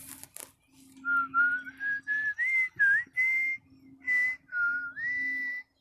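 A person whistles a tune in imitation of a cartoon character's whistle from Total Drama: a series of clear, bright, sliding notes in short phrases, close and alone.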